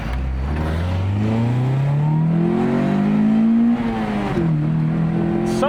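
A car engine fitted with a new intake revs loudly and close by, its pitch climbing smoothly over several seconds, then dropping back and settling, with no voices.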